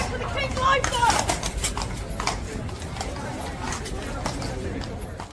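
Royal Guard horse hooves clip-clop in a quick series of sharp knocks, set against a steady murmur of crowd chatter and background noise.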